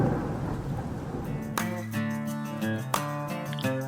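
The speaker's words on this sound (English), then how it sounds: "A storm is coming." Thunder from an approaching storm over the Gulf of Mexico rolls low and continuous, with several sharp, loud cracks striking in sequence above steady rain hiss; no one speaks.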